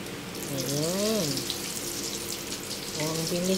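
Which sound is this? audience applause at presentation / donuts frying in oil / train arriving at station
donuts frying in oil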